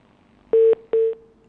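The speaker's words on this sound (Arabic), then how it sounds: "انقطع الاتصال" Two steady electronic telephone tones, each about a fifth of a second with a short gap between them, sound clearly and alone after a phone call from America drops during a live call-in broadcast.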